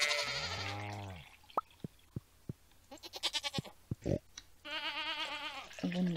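Goats and sheep on a farm in the video game Stardew Valley give wavering bleats at the start and end, with short plinking game sound effects between them and no voices.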